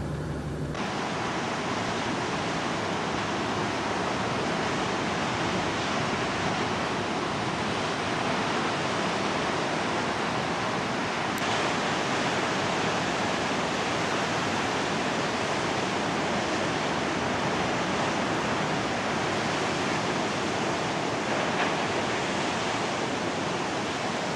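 Rough sea waves break on the rugged south coast, a loud, steady wash of surf roaring continuously and close without any voices.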